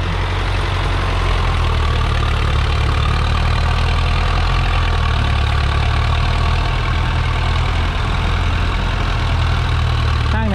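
A sugarcane loader truck engine runs steadily, a loud, close, continuous low rumble with a knocking diesel idle character and no change in pitch throughout.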